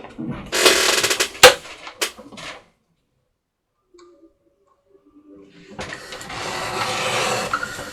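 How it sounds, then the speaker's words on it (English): A paper trimmer slices along the edge of a CD wallet in two bursts of scraping, rasping cuts separated by a quiet pause, close up with sharp clicks between. "I'm going to slit this edge open with my trimmer so that we can slide our circle in there"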